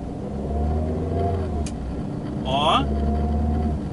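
A Volkswagen New Beetle's engine hums steadily during a gear change, with a brief rise in revs partway through and a short exclamation from a voice over the low rumble.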